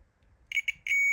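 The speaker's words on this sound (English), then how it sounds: "Quick beep test just to make sure everything is connected where it's meant to be." A multimeter's continuity beeper sounds during repair of a vintage Peavey Hotfoot Distortion pedal: three short, clear electronic beeps close together, then a held tone, loud and alone.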